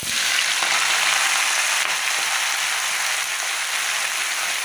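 Spinach saag hits a hot tempering in a pan, setting off a loud, steady, bright sizzle that fries on without pause.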